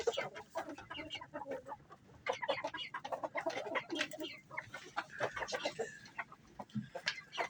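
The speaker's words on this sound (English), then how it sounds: "There's Brave Red, our young cockerel" A backyard flock of chickens, including young cockerels, clucks and chatters steadily on a snowy day, several birds calling close by in overlapping bursts with no talk over them.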